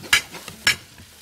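Food stirred in a frying pan for a chicken-and-rice home cooking session, heard as two distinct close scraping strokes about half a second apart with a faint sizzle beneath, no talking.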